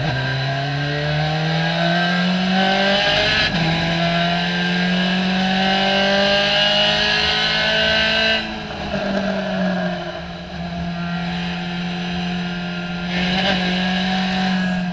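A COMMA SRF3 race car engine drones loudly and steadily at high revs on the Hallett circuit, with its pitch rising as it accelerates, dipping at gear shifts and climbing again, heard close up from the car.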